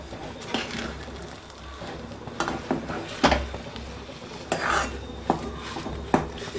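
Rava pongal with ghee being stirred in a pot, heard as scattered clinks and scrapes of a spoon against metal with a low steady hum underneath.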